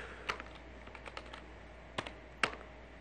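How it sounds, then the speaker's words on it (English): Password being typed on a computer keyboard at a Windows PC: a handful of sparse, crisp keystrokes, close and fairly quiet, with short pauses between clicks and no talking. "Now we're going to enter a new password."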